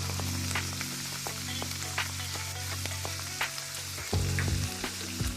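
Butter melting and sizzling in a pan for hamburger gravy, a steady crackling fry with scattered pops throughout and a louder burst of sizzle near the end, no talking.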